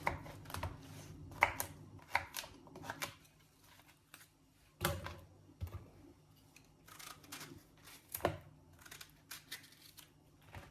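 Onion, pepper, carrot and garlic being chopped with a knife on a cutting board for turmeric vegetable lentil soup, irregular bursts of crisp cuts and taps separated by pauses, close and fairly quiet.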